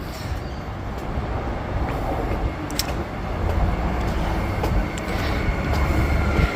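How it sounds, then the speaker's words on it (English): A three-car commuter train rolls into East Perth Station with a loud, continuous low rumble and rattling, growing slightly louder as it nears. "And here's the train, Ellenbrook train to Perth"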